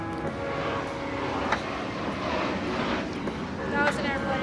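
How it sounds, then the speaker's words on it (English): Steady engine roar of an airplane fills the clip, a constant broad drone with brief louder swells, with faint voices mixed in. "That was an airplane."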